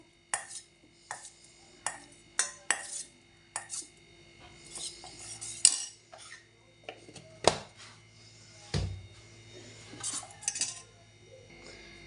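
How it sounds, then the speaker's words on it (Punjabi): A spoon stirs custard powder into cold milk in a bowl, giving close, irregular metallic clinks and scrapes against the sides, with some quieter rubbing between taps. "ਇਹ ਠੰਡੇ ਦੁੱਧ ਦੇ ਵਿੱਚ ਕਾਸਟਰ ਨੂੰ ਆਪਾਂ ਚੰਗੀ ਤਰ੍ਹਾਂ ਘੋਲ ਲੈਣੇ"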